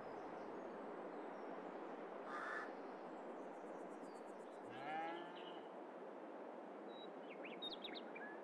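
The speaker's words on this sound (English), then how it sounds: "It's another cow pasture for 200 cows again." Cattle on a large cow pasture in Farming Simulator 22 give a faint, distant moo over a steady wash of outdoor ambience, with bird calls scattered around it.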